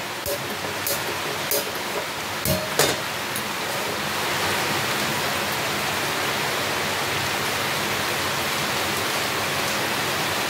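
Heavy rain falls outside as a dense, even roar that swells to a steady wash, with a few sharp kitchen clicks and knocks near the start; a voice is faintly present.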